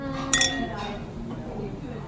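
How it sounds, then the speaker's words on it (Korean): A couple of bright glassy clinks ring out early as ice drops into a glass of wine, then fade under quiet background murmur. "와인이 칠링이 안 돼 있어서 얼음을 좀 넣을게요"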